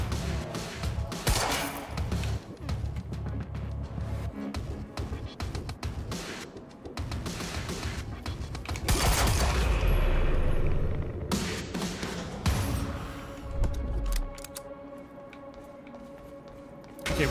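Gunfire in the Quantum Break video game, scattered shots and thuds among busy game effects, with a heavier burst of firing partway through and someone talking over it.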